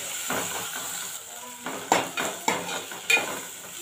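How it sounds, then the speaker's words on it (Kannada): Green chillies and curry leaves frying in a pan for prawn curry: a steady sizzle under a run of spoon scrapes and knocks against the pan, close and moderately loud, with no voices. "ಗ್ರೀನ್ ಚಿಲ್ಲೀಸು, ಮತ್ತು 1-10 ಎಲೆ ಕರಿಬೇವೆಲೆ, ಕರಿ ಲೀವ್ಸ್, ಇಷ್ಟು ಹಾಕ್ಬಿಟ್ಟು ಚೆನ್ನಾಗಿ ಫ್ರೈ ಮಾಡಿ ಇದನ್ನು"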